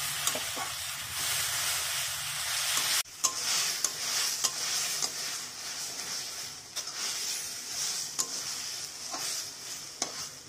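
Chicken Manchurian cooking in a pan gives off a steady hissing sizzle, broken by a sharp shift at about three seconds and then occasional stirring scrapes and knocks.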